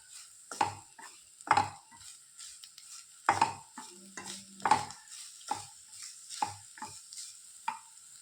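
Grated coconut frying in a pan until brown, with repeated stirring scrapes in bursts over a faint steady sizzle, close and moderately loud, no voices.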